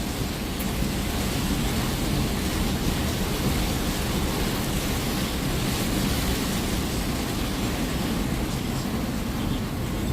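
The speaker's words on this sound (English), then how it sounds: "Look at that water coming down." Heavy rain pouring down on a car, a dense, unbroken roar of water drumming on the body and roof, loud and close throughout with no voices.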